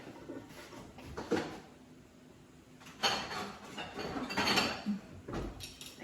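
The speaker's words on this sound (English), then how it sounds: "Cover with the lid like this until the smoke coming up all over." A lid is set over a pot of black sticky rice on the stove, giving a few brief metallic clinks and knocks against a faint background hiss.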